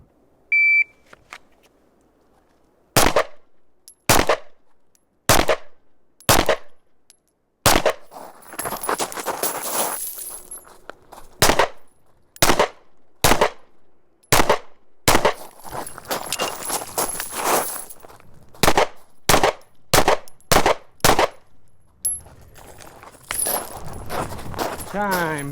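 Pistol shots from a SIG 365X Macro fired at 20 yards on an outdoor range, sharp loud reports in quick strings of several shots separated by pauses, with range noise and background chatter between strings.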